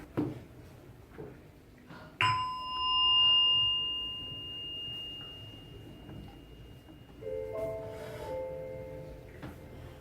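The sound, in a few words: small meditation bell ringing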